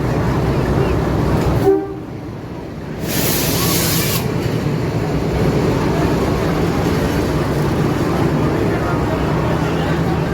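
The Saraighat Express from Howrah rumbles loudly and steadily, with a brief horn blast partway through and voices talking over the train noise.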